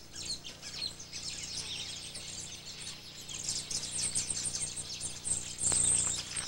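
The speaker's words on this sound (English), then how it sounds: "There is a weaver bird colony in a tree close to the chief's hut" A colony of weaver birds in a tree near a village hut in Madagascar keeps up dense, overlapping high chirps and twitters at moderate volume, with a louder burst of calls near the end.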